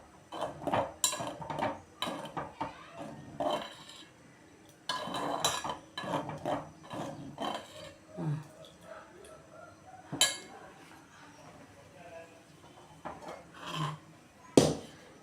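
A spoon clinks and scrapes inside a metal pot as hot milk is stirred into semiya payasam, with irregular sharp taps and clatters spread across a fairly quiet kitchen.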